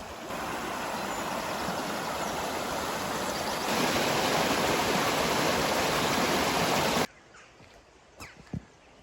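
A small river stream flows near Janet's Foss waterfall in Malham, a loud, continuous rushing wash that cuts off abruptly, leaving a quiet outdoor background with a few faint knocks.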